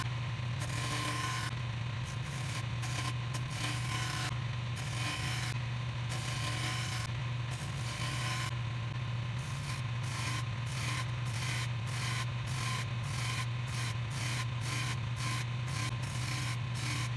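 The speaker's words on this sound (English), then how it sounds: "Now it's on to lathe work." A wood lathe spins a pedestal table column while a tool shaves the wood, giving a steady low motor hum under rhythmic scraping bursts that come and go as the cutter is pressed on and lifted.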